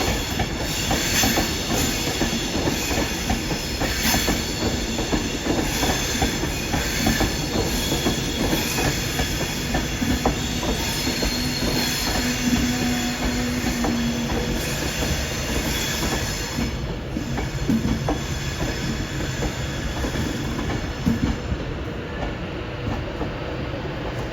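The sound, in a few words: train passing at Carlisle station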